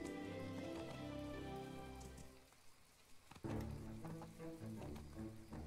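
Rain patters in the video game My Time at Portia, a soft steady wash beneath sustained tonal game music, with a short lull midway before the music returns.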